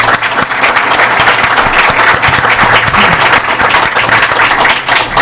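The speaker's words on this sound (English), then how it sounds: "Let's give them another great round of applause for what they're doing." At an NBA press conference on the Hornets' sale to new owners, a crowd breaks into loud, dense applause, a continuous close clatter of many hands that holds for the whole stretch.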